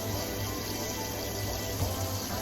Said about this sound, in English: I'm gonna fill that pot up with some hot water first.